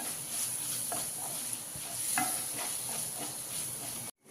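Egg curry base of chopped aromatics sautéing in a pan, a continuous close sizzle with occasional spatula scrapes and taps, ending in a brief cut before the sizzle returns.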